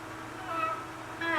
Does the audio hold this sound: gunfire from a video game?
no